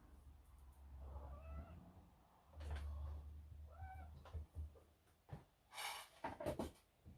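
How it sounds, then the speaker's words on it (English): A wet cat meows indoors, several short plaintive calls spaced across the clip, quiet and close, mixed with soft knocks and rustling. "don't you meow at me"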